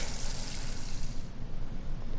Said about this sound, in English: Water begins running into the sink.